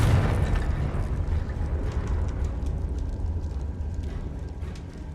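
A Confringo fire spell goes off in Hogwarts Legacy with a loud, rumbling blast right at the start, then a dense, roaring crackle that fades slowly over several seconds, with no talk over it.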